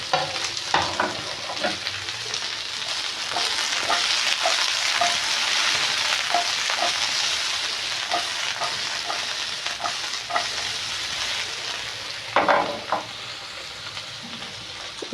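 Chopped okra pieces and green chilies fry in oil in a pan for chutney, giving a steady bright sizzle broken by repeated spoon scrapes and stirring clatter, with no talking.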